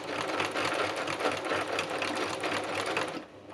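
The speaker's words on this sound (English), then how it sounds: "It's not like some of my other pieces where I absolutely whiz up and down with the sewing machine." Sewing machine stitching slowly and deliberately, a close rapid chattering run that continues steadily for about three seconds before easing off.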